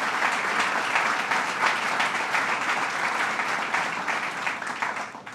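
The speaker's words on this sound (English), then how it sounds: "And let's give Bob a round of applause" An audience at a Genesee Brewery expansion announcement in Rochester gives a steady round of applause, a dense wash of many hands clapping together at moderate loudness, with no talking over it.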